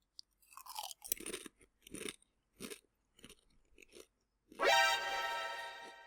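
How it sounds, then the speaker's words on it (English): Pringles Philly Cheesesteak chips are crunched and chewed up close in a run of short, crisp bursts separated by silences, followed by a louder, longer noisy rasp at the end. "in case you want to hear the crunch and also the taste"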